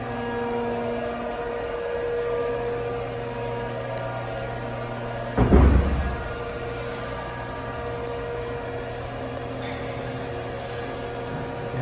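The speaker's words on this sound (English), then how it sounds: "we'll show her going up and down" A stainless steel bin dumper runs with a steady mechanical hum as it lifts and lowers, broken by one short louder clunk partway through, with no voices.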